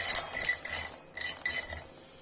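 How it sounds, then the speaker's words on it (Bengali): Peanuts dry-roast in a wok while a utensil stirs them, giving soft scraping and light clinks of metal against the pan, with no talking. "সেটাই ভাজতে দিয়ে দিলাম দেখো কড়াইয়ের মধ্যে"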